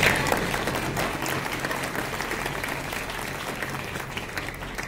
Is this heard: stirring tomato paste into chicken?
no